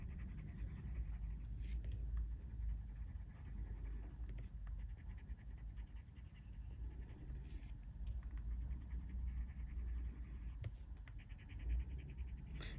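Steady soft scratching of a sharp colored pencil shading on paper in a colouring book, an olive-type green, a continuous close, quiet rasp with faint irregular strokes.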